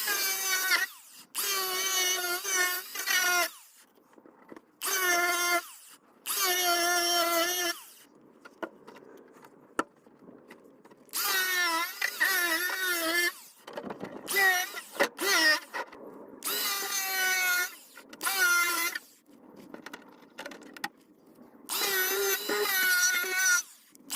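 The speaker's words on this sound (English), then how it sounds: "it's going to get a lot bigger once we get the grinder on it and clean all the loose stuff off." An angle grinder scours loose, rusty underseal off the floor pan of a Mk2 VW Jetta, its high whine coming in roughly eight separate bursts with short pauses between.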